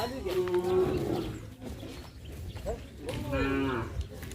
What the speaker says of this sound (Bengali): বড় বড় গরু আছে